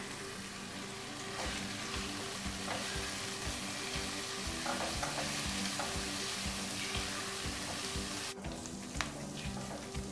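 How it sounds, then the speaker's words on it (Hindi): Garlic and ginger sizzling steadily in a pan while being stirred, a dense, constant fry with faint scraping, close and without talk. "जो लहसुन हमने बचाया हुआ था, लहसुन अदरक, वो इसमें डाल देते हैं। इसको हल्का सा भून लेंगे"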